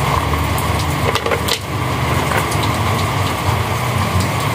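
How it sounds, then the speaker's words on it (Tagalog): Steady rain falling outdoors, a dense, even hiss of drops that continues without a break, with a few sharper patters and knocks close by. "umuulan na"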